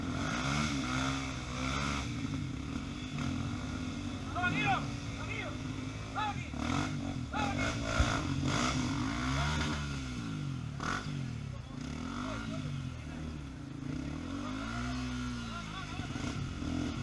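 Motorcycles idle and rev on a dirt trail near waterfalls, their engines droning and rising and falling in pitch close by, while people talk over the noise.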